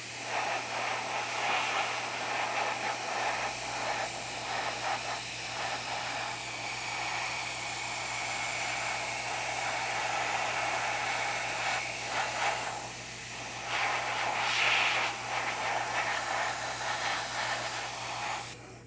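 Continuous airbrush hiss steady through the whole stretch, moderately loud and close, with a low steady hum beneath and small shifts in the spray's texture.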